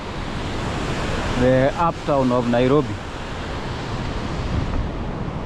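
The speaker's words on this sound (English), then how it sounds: "This waterfall, I can't get enough of it." A waterfall on the Nairobi River carrying raw sewage through uptown Nairobi gives a steady, loud broadband rush throughout, with someone speaking briefly over it.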